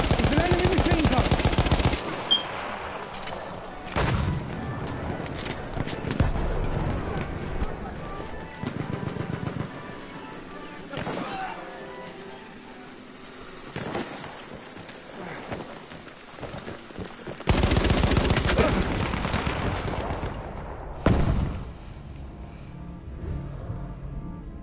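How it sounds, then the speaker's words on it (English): An enemy machine gun fires in the video game Battlefield 1 in loud, close sustained bursts that cut off and resume, with scattered shots, footsteps and battle noise filling the gaps between volleys. "It's an enemy machine gun!"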